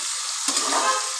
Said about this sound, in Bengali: এবার আমি ভাজা করে নেব, লাল লাল করে ভাজা করে নেব আলুটা আর পেঁয়াজটাকে।